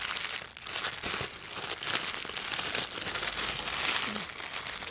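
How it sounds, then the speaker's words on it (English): A black plastic bag crinkles and rustles continuously up close while a cake fondant sculpture tool kit is being unboxed, with no speech over it. "It is wrapped in a black plastic bag. Let's go ahead and do this unboxing."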